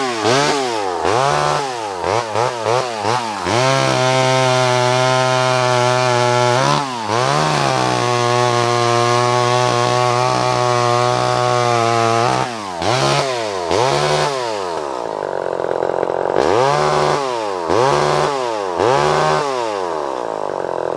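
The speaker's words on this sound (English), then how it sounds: "start the chainsaw" Vintage Craftsman 3.7 PS chainsaw runs loud and close, rising and falling through repeated throttle revs, with a steady high idle stretch in the middle and sharp revving bursts on either side.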